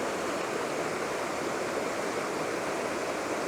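A small woodland waterfall beside a Dartmoor path, swollen after rain, pours in a constant close hiss of rushing water with no pauses.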